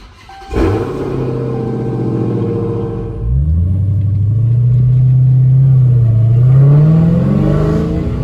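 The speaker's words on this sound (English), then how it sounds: "So we're just out here taking it easy, getting the car warmed up a little bit" Dodge Challenger Hellcat Redeye Widebody driven gently on a wet road while warming up, a loud deep engine rumble starting abruptly, then a low drone that rises slowly as the car pulls away, alone without talk.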